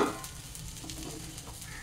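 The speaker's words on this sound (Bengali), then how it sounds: "দেখো এটাকে তলার থেকে বেশ ভাজা ভাজা হয়ে যাচ্ছে" Pieces of giant taro fry in a pan with a soft, continuous sizzle, quiet and close, with no voices.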